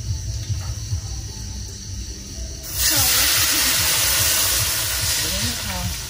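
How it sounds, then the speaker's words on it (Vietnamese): Water pours into a pot on a stove for Vietnamese sour soup, a broad rushing hiss that starts partway through and stays steady under a voice talking. "Rồi, nấu rồi mình cho nước vô luôn."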